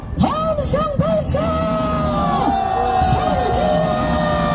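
A large crowd at a political rally in Myeongdong, Seoul, by the Chinese Embassy and Central Post Office, roars and cheers with many overlapping yells and whoops rising and falling loudly and nearby.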